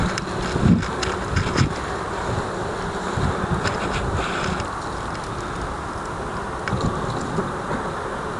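Steady, dense buzzing of many bees close by, with light wind rustle and a few soft knocks, continuous throughout.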